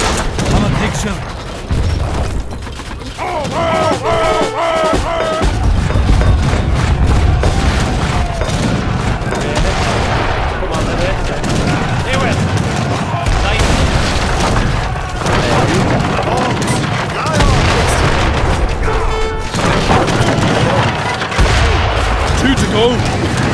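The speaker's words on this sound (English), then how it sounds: "Lead on, Morgan, and destroy those cannon." Gunfire and cannon booms from a battle in the Age of Empires III video game, with cavalry attacking a fort and bombards, continuous loud bursts of shots and blasts under game music and voiced dialogue.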